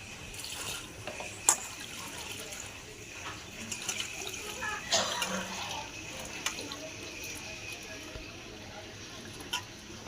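Small fish being washed with salt in water, with soft splashing and sloshing close by and a few sharper splashes, fairly faint and without talk.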